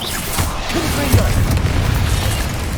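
Confringo blasting spell explosions in Hogwarts Legacy played on hard mode, a dense, loud, continuous rumble of blasts and combat noise throughout.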